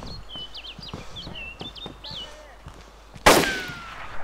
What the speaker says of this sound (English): That gunshot was very close.